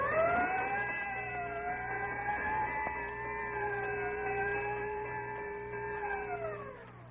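A wailing siren rises and holds with a sustained, slowly wavering tone alongside a bell, the signature sound of the Texaco Fire Chief radio program, clear and alone with no talking.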